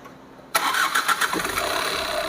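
A Tata Nexon car engine, just overhauled with its timing reset, cranks and fires up after a brief quiet moment, then settles into a steady idle close by.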